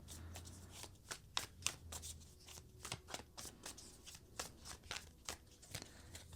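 Tarot cards shuffled and drawn by hand, a quick riffling flutter of card edges with rapid repeated slaps and snaps, close and quiet with no talking.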